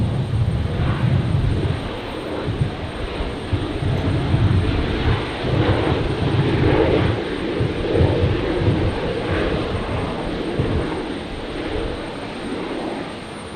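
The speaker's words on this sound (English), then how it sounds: "As Qantas 938 touches down there on 19 left." A Qantas airliner, flight 938 from Perth, touches down on runway 19 left at Brisbane Airport, its engines giving a steady loud roar with rumbling low end throughout, no voices over it.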